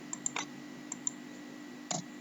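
Light clicks of keys pressed on a computer keyboard while coding, a few sharp isolated taps spread over two seconds, quiet against a low steady hum.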